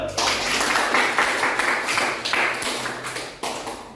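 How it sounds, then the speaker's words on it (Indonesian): Students in a classroom clap together, a loud burst of dense clapping that holds steady and then fades, with a little room noise around it. "Oke, nah, tepuk tangan dulu."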